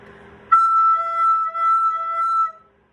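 A soprano recorder blown too hard gives a sudden shrill, piercing squeak: one sustained high overblown note lasting about two seconds, loud and close, then cut off, with no talking over it.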